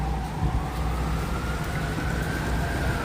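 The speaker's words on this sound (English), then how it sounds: "hear the sirens coming." Emergency vehicle sirens wail through city traffic along Yonge Street in Toronto, a rising and falling tone moderately distant over a steady wash of street noise and passing vehicles.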